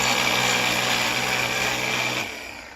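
A low-pressure 320 psi bike washer on its turbo setting sprays with a steady whining motor hum and hissing jet, close by, then cuts out abruptly near the end, leaving quieter background; no talking.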